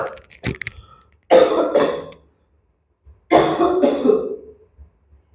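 A teacher coughs and clears the throat in a live biology class: a short cluster of sharp coughs, then two harsh, drawn-out throat clearings, close and loud, separated by silence.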